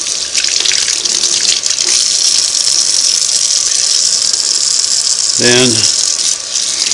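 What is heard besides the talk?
tap water rinsing sewing machine parts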